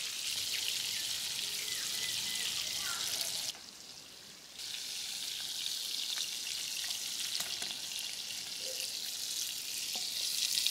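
Large freshwater prawns fry in hot oil in a frying pan for a prawn malai curry, a loud continuous sizzle that briefly drops in intensity before resuming, with no talking.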